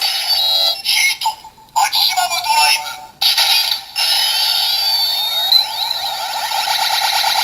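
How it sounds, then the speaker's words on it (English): A Double Driver transformation belt toy plays its Heat maximum drive standby sound, a loud, looping electronic tone. It has choppy bursts and short gaps early on, then settles into a continuous electronic pattern. "all of the silver-tipped memories from this belt, the ones that are on Philip's side of the driver, all have this same standby noise"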